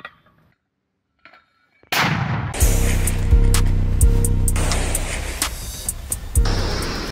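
Sniper fire among bombed-out buildings in Khan Yunis, Gaza: a sudden loud crack after near silence, followed by several heavy, booming shots ringing out in succession with echoing tails.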